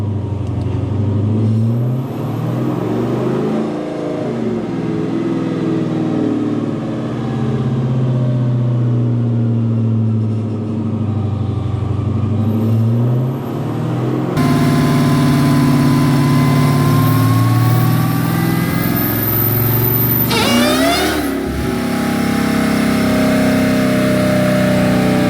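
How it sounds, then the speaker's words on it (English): A supercharged Jeep SRT8 with a Whipple blower runs a wide-open-throttle pull on a dyno, a loud, sustained engine roar that swells and eases through the run, with a sharper surge and change in tone near the end. "So we did our short wide open throttle pull."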